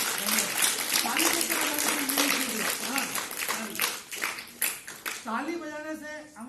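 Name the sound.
audience clapping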